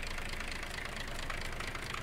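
A tractor engine idles steadily in Farming Simulator 22, a continuous mid-pitched mechanical hum with a faint knocking texture, even and uninterrupted throughout.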